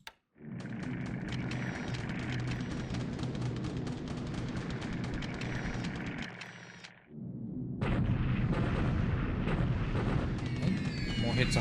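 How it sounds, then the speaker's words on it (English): Bombs burst over Clark Field in the War in the Pacific strategy game, a dense, loud run of rumbling blasts that drops out briefly and then resumes even heavier. "Bombing Clark Field today."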